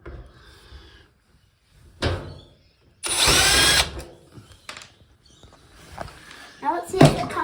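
A cordless power drill working screws on a Samsung TV being taken apart, with short bursts of motor whine, a longer loud run in the middle and a final brief burst, separated by quiet handling sounds and people talking.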